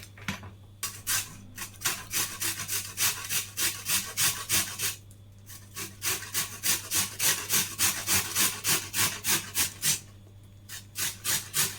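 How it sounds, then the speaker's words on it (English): Yellow peppers grated by hand, rhythmic scraping strokes against a grater, close and loud, repeating steadily with two brief pauses, over a low constant hum and without speech. "But I like to grate it."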